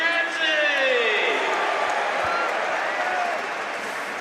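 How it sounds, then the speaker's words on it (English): Football crowd at Charlton v Shrewsbury Town applauding Kane Ramsey as he returns from injury, a broad steady wash of clapping and murmur held throughout, with voices mixed into the crowd noise. "Kane Ramsey getting the sort of applause you'd expect"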